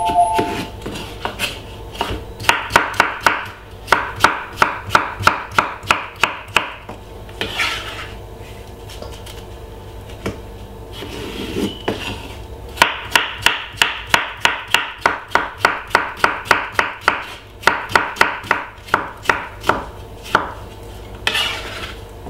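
Knife chopping cucumber on a board for a salad, sharp rapid cuts in quick bursts separated by short pauses, close and loud with no talking.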